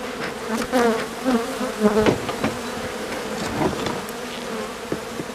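Honeybees buzz steadily close to a cold hive with a mesh screen floor, a dense droning hum with individual bees whizzing past the microphone.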